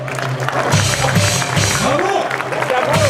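A festival audience applauds at the opening ceremony of the Remp'Arts 2018 festival, steady clapping and crowd noise filling the space while a voice carries over it.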